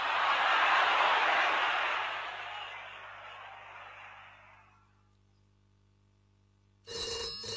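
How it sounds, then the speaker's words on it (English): A telephone bell starts ringing abruptly near the end, loud and close, after a broad background noise slowly fades into near silence. "There's the phone."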